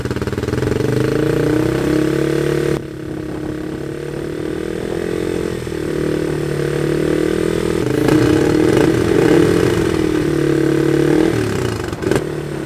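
A motorcycle engine runs close and loud, with a steady idle that climbs and falls as the throttle is blipped, and short clattery revs near the end.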